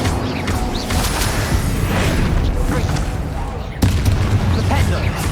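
Fiery Incendio spell from Hogwarts Legacy amid ongoing combat: dense booming blasts and crackling impacts that run continuously at close range, with a sharp, heavier burst near the end.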